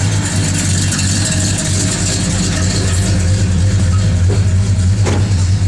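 A 1966 Plymouth Satellite's engine idles steadily up close, a loud, even low rumble with a couple of faint clicks near the end.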